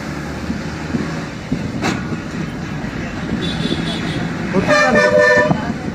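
A bus horn toots as the Kotturu Lanka bus pulls into Vemuru, a short tonal blast rising above the rumbling of engines and street bustle, with people talking nearby.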